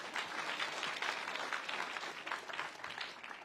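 Congregation at a church service breaking into a dense, sustained round of applause, many hands clapping together steadily and evenly throughout, loud and close, with no pauses.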